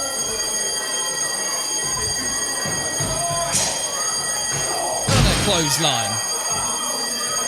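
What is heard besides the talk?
fire alarm ringing in event venue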